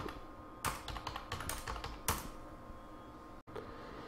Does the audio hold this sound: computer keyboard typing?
yes